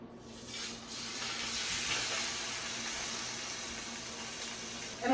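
A spinach-stuffed salmon fillet hits a hot pan and sizzles, a soft steady hiss that swells at first and then holds, with no talk.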